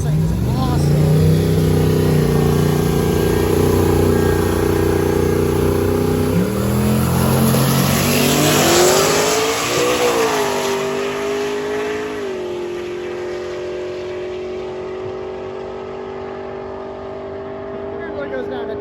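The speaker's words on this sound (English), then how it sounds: "We got a Rambler American." A Rambler American race car at Rocky Mountain Race Week accelerating down the track, its engine note rising through several gear changes, loud at first then fading into the distance, with people talking over it.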